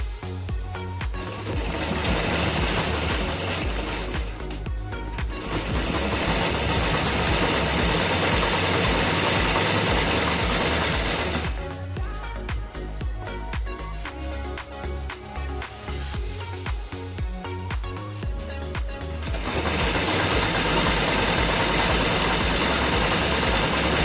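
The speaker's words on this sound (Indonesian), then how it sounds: "Lalu kita jahit di jahitan yang sudah ada." A sewing machine runs continuously, stitching teepee tent fabric along an existing seam. It gives a loud, rhythmic mechanical chatter that briefly slows and shifts before resuming at full speed.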